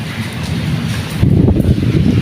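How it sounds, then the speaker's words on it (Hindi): Loud, steady rush of monsoon wind and heavy rain buffeting the microphone, growing rougher and heavier partway through. "तूफान भी बहुत ज़ोर का है और बारिश भी बहुत ज़ोर की है"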